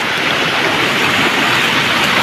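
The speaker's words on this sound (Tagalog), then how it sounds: "Malakas, sobrang lakas yung tubig." Strong floodwater rushes across a flooded route in a loud, steady, unbroken roar of churning water that stays close and constant throughout, with no voices.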